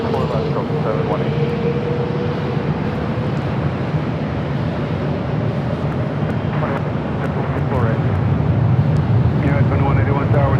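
An airliner roars down runway 24 left at LAX on its takeoff run, a loud, rising rush of engine noise with faint radio voices underneath.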